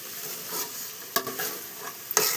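Food being stirred and mixed in a pan, a soft, close scraping shuffle with two sharper clacks of the utensil against the pan over a faint sizzle, quiet and without talk.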